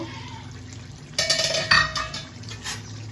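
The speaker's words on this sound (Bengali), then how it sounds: "এবার আমি ঢাকনাটা খুলে নেব।" A lid comes off a cooking pot of potato and pointed gourd curry: two sharp metallic clatters close together, followed by a soft steady simmer underneath.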